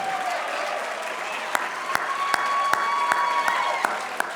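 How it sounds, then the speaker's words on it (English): A crowd at a 2018 Lansing volunteer awards night gives a final round of applause for the honourees: continuous clapping punctuated by several sharp, louder claps close by, with a faint sustained tone running underneath. "Give them one final round of applause."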